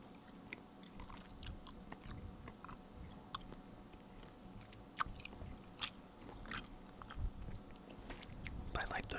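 Sugar-free bubble mint gum chewed close to the mic gives soft, irregular wet smacks and squishes at a low, intimate level, with faint whispering and light background noise.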